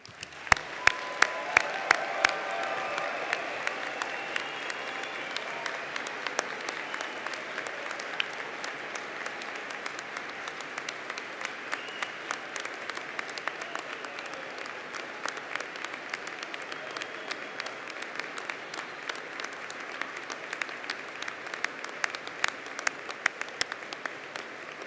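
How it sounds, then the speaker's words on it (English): A long final round of applause from the audience at a medical school commencement ceremony, a sustained dense roar of clapping from a large crowd with a few sharp nearby claps, steady throughout without fading. "saluting you with a final round"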